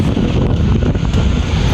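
Strong wind roars and buffets the microphone beside the water on a fishing trip, a loud constant rush with no talk.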